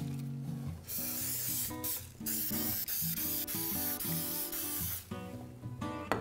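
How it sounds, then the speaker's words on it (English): Cooking spray is applied liberally to a cookie sheet, with a few short hissing bursts rising over steady background music. "we're gonna use some cooking spray. And we're just gonna liberally spray this."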